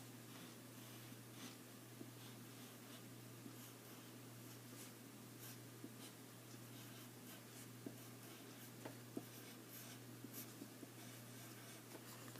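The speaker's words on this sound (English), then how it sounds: "At the top of this paper, I'm going to write the word Zentangle." A pen writes a word across white paper in steady, faint scratching strokes, close up and alone, over a low constant hum.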